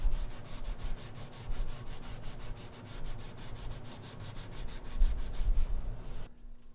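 Rhythmic back-and-forth strokes of fine 220 or 320 grit sandpaper rubbing a guitar's wood body by hand, steady and close, ending abruptly with no talking.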